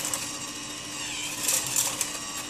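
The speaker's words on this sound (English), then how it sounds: "The fasteners then are transmitted using vibration to the front of the machine where they park in place" An AcraFeed 50 Series automatic screw presenter vibrating fasteners toward the front of the machine, a steady close buzzing hum with faint metallic rattling throughout, no talk.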